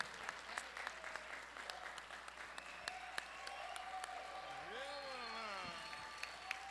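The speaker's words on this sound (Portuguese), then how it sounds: "Merece todos os aplausos." Audience applause at a formal solemn session honoring the Catholic Charismatic Renewal of Rio de Janeiro, a steady bed of clapping across the hall with voices and cheering over it and a rising tonal call near the end.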